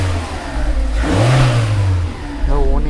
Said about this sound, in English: Okay, car is revving up nicely.